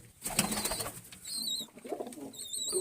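Pigeons in a damp coop give soft coos and brief wing flutters, along with a few thin higher calls, close but fairly quiet.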